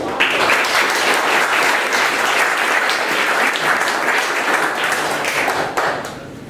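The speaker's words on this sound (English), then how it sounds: "Rupert come up here with Burn Game Ventures, so please give him a round of applause." A conference audience at a 1 Million Cups startup presentation in St. Pete claps steadily, a dense, sustained wash of applause that stays loud and even before tapering slightly at the end.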